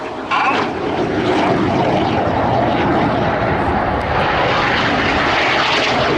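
Red Arrows jet aircraft of the RAF synchro pair running in at high speed during an air display at RIAT 2024, a loud continuous roaring rush of engine noise that holds steady throughout.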